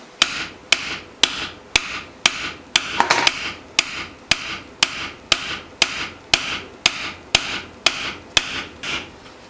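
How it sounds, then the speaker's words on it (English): A hammer strikes the peening cap of a jig at a steady rhythm, about one blow every half second, as a European scythe blade is peened. The metallic taps are close, bright and ringing, and no one speaks. "moving the blade along as I'm hammering down on the cap."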